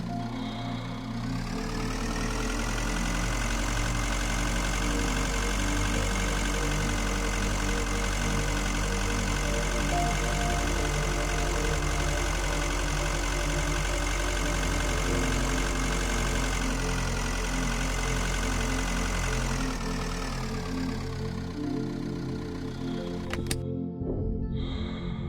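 A spacecraft engine idles in the video game Breathedge with a steady, loud, low humming drone rich in tones, running unbroken for over twenty seconds before cutting out near the end.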